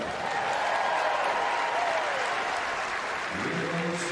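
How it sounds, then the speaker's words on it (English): Stadium crowd at the US Olympic track and field trials applauding as a women's 400m hurdles finalist is introduced, a broad, distant wash of clapping and cheering with a faint announcer voice under it. "The crowd showing their appreciation"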